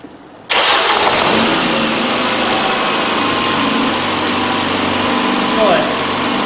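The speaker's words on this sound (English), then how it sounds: "so I'll just start the engine now." A car engine cranks and catches abruptly, then settles into a steady, loud idle that continues throughout, recorded close by while a 15-amp fuse circuit is tested.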